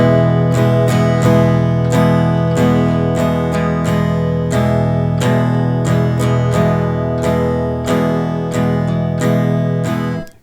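Guitar chords strummed in a steady down-up pattern, loud and close, many strokes in an even rhythm for about ten seconds with no talk, ending on a cut-off.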